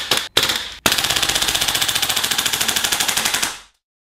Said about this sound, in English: Shooting the 553 is a cool experience. Each shot is executed with a crisp snap and has an excellent little kick in the shoulder